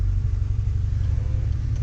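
A manual-transmission car's engine idles steadily inside the closed cabin, a dense, continuous low rumble with slight flutter and no clear revving, holding at an even loudness throughout.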